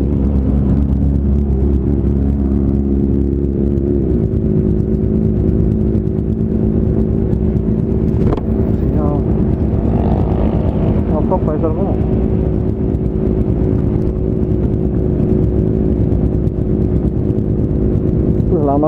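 A carbureted Kawasaki Ninja 250 being ridden, its engine droning steadily with a constant low, buzzing tone and a few rising revs throughout, loud and close, with a rider occasionally talking over it.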